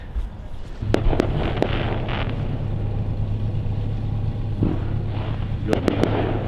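A fireworks show over the Mississippi River, with sharp bangs and crackles over a steady low boat engine rumble: a few pops early, then a cluster near the end.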